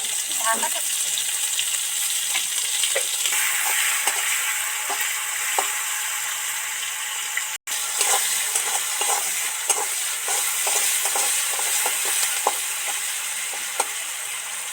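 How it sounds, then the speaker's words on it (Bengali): Chopped onions fry in hot oil with a sprinkle of salt, giving a steady, close, loud sizzle that runs throughout, with occasional stirring scrapes and brief clicks of utensils. "পেঁয়াজগুলো তো সব সব করে ভাজা হয়ে গেছে"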